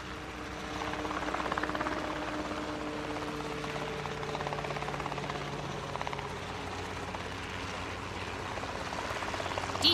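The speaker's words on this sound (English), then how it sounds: "I'm a gyrocopter. I just have a big propeller on top" A gyrocopter with a big propeller on top flying in the sky, a steady droning rotor and engine hum that holds at a moderate distance throughout, no talking.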